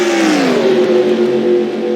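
Stock race cars roar past in a video game Daytona 500, a loud engine note sweeping down in pitch as a car passes close, then holding a steady high drone.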